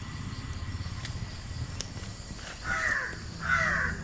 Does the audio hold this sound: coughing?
no